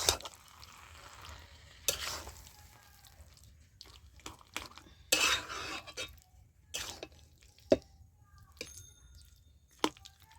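Turmeric being stirred into raw tamarind pickle, heard as scattered soft scraping and wet mixing strokes with sharper bursts at irregular intervals, quiet and close with no talking.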